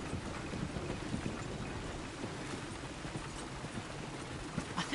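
Steady clip-clop of horse hooves plodding along in the video game Red Dead Redemption 2, accompanied by a constant rain-like hiss.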